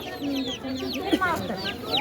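Chickens cluck and squawk in short, jerky bursts close by at a poultry market in Beruniy, with people talking and bargaining in the background.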